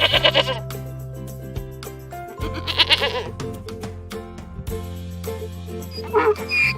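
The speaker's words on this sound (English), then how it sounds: "Goat." Goat bleating on a farm, several loud wavering bleats in separate bursts, close by, with a dog yipping and other farm noise between them.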